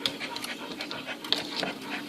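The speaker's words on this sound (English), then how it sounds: "We have 2 new dogs temporarily here." Two dogs panting close by, quick rhythmic breaths repeating steadily under a faint background hiss.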